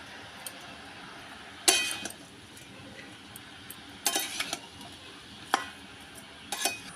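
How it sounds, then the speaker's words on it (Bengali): Cabbage mixed with spices in a pan over a wood fire, heard as a few scattered scraping and clinking strokes of a spoon against the pan at uneven intervals, fairly close, with quiet gaps between. "এইবার বাঁধাকপিটাকে ভালো করে মশলার সঙ্গে মিশিয়ে নেব"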